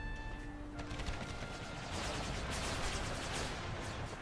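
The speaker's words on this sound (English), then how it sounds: "They get hit by artillery." Distant artillery and rifle fire in an American Civil War strategy game, a continuous rumbling crackle of gunfire with a muffled, far-off quality, heard alone without talk.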